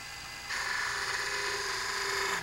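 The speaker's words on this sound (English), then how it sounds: "I use my 3/4 spindle gouge again" A wooden pen blank spinning on a lathe as a 3/4 spindle gouge cuts it, a steady high whirring hum that starts abruptly, holds evenly for about two seconds, then stops, heard close and alone.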